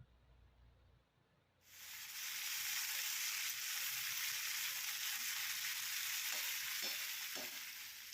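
Potato, pumpkin and Malabar spinach stems hit hot oil with bay leaf, five-spice and green chillies, bursting into a loud, steady close sizzle after a quiet start, with a few faint stirring knocks.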